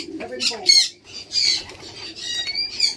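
Pigeons in a crowded loft flap their wings and call in bursts, a busy overlapping mix of wingbeats and squawky coos close by, with a brief voice at the start.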